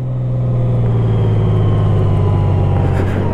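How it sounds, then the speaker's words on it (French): A loud, steady Honda GL 1800 Gold Wing 2023 motorcycle engine drones close by with a deep rumbling hum, holding an even idle-like pitch throughout. "le moteur est assez bruyant quand même"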